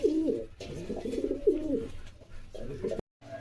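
Pigeons of various breeds cooing in a loft, repeated low throaty coos rolling one after another, close and clear over a faint background hum, with no talking.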